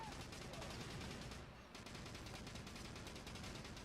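Rapid gunship gunfire from the video game Battalion Wars, a dense continuous rattle of shots that briefly drops out before resuming at steady loudness.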